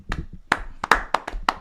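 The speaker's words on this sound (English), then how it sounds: "That was a pathetic applause. Can we do that again?" A few scattered studio audience hand claps at a live boxing show, sparse and uneven, close by with no crowd swell.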